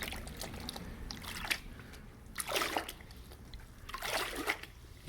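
A Mopar cold air intake from a 2015-and-up Challenger is swished around in warm water, giving soft sloshing and trickling bursts that rise and fall in a few waves against a quiet background.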